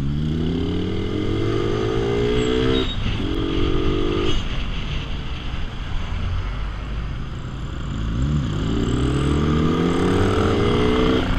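A Kawasaki Z1000 motorcycle rides alongside in traffic, its engine revving up through rising gear pulls, dropping briefly between shifts, then climbing again, loud and close over steady road noise.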